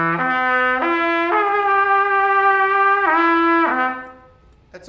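Sustained trumpet notes that sound sour and wavering, way out of tune, sliding off pitch between held tones, played alone and fairly loud.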